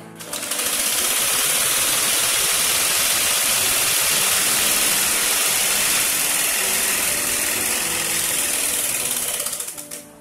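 A sewing machine runs continuously while stitching a chudidar pant, a loud, steady mechanical whir that holds evenly for about ten seconds before easing off at the end.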